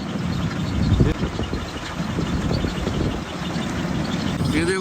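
Paddy harvesting machine running at half speed in a rice field, a steady low engine drone with rumbling and knocking texture, fairly close and continuous throughout.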